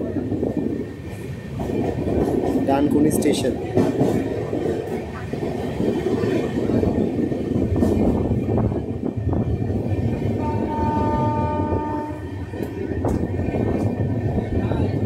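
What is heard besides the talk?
Sealdah-NJP Darjeeling Mail train running on rails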